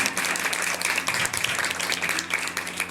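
An audience at a school event claps loudly and continuously for arriving guests, a steady close wash of applause throughout.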